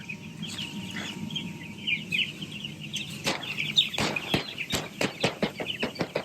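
Chickens at a poultry farm cluck and call nearby during morning feeding over a steady machine hum, followed by a run of sharp tapping pecks and rustles.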